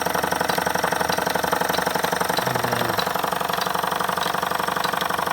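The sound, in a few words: Jensen #10 deluxe toy steam engine running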